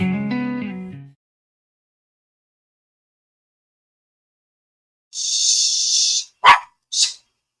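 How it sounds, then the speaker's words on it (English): A puppy barks as someone arrives home, a few short sharp yaps close by after a long quiet pause, following a brief stretch of voiced sound at the start. "the puppy is telling me that someone's home"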